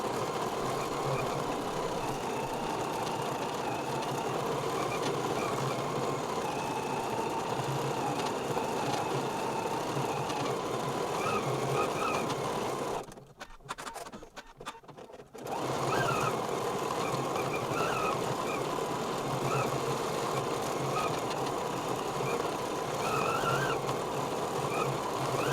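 An embroidery sewing machine stitches a tote bag design with a steady, close mechanical whir and rapid needle clatter. It runs continuously, pauses briefly partway through, then resumes.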